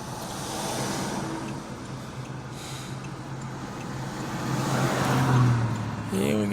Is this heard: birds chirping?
no